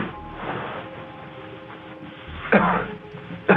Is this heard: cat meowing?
no